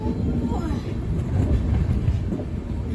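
A train rolling into Koraput station: a loud, steady low rumble with rattling and wind noise throughout, and a voice faintly present under the din.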